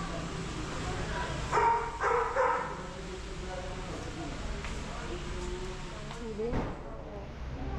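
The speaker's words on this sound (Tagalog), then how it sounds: "Ba't may aso?" A dog barks a few times during tile work on a house project in Baguio, short yaps and whimpers at moderate distance over steady background noise, with people talking.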